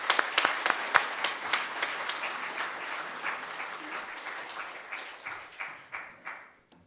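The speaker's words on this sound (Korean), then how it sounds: "우리 크게 한번 박수로 축사하겠습니다." A congregation at a Korean church elder ordination and retirement thanksgiving service claps, starting with a few sharp individual claps, swelling into full applause, then thinning and fading out near the end.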